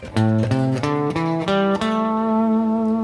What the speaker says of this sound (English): the minor pentatonic sounds like this